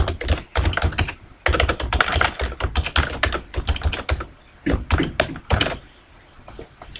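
Rapid bursts of typing on a computer keyboard while entering text into a Microsoft Visio 2010 shape, with close, clicky keystrokes in irregular clusters separated by brief pauses.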